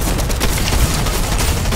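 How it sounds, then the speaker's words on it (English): Drum shotgun fire in the video game Fortnite, a dense, continuous barrage of booming shots with more distant gunfire mixed in, loud and steady throughout, with no talking. "I'm just gonna drum shotgun him."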